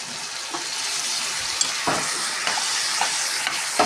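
Stuffed ivy gourd frying in oil, a steady close sizzle with occasional scraping clicks of a spoon stirring through the pan.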